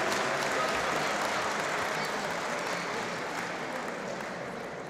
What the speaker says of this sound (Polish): Brawa dla Ani!